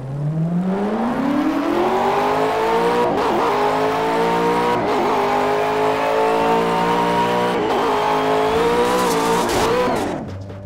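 Car engine from Project CARS, revving up and holding a high, strained tone for about ten seconds with brief dips, ahead of a full-on crash test into the front of the car.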